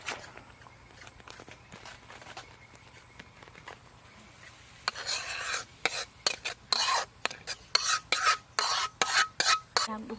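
Cooked sticky rice for a durian dessert is scooped into a plate, with close, repeated rasping scrapes of the utensil that start halfway through and grow louder and more rhythmic after a quiet opening.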